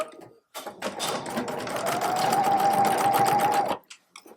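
Sewing machine running steadily across a drawstring bag seam, a continuous whirring motor hum that starts abruptly, holds for about three seconds and stops, with faint handling noise around it.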